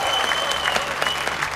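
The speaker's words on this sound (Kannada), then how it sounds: "ಜೋರ್ ಚಪ್ಪಾಳೆ ಸಂಜನಾ ಅವ್ರಿಗೂ ಕೂಡ" Audience applause for a game show contestant, a steady burst of clapping from a studio crowd that stays loud and even throughout.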